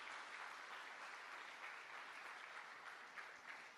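Faint, steady applause from a congregation at a Spanish-language church service, continuous clapping at low volume for a few seconds.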